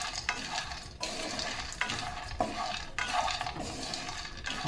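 Dry nuts roasting in a pan for laddu, stirred in rhythmic scraping strokes roughly once a second over a soft, constant sizzle, heard up close with no talking.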